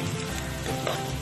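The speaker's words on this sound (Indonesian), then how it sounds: "terus kita masukin kecap dari pinggirnya ya" Soy sauce poured into a hot pan with tilapia fish sizzles briefly, a close, steady crackling hiss of frying with a faint tonal hum underneath.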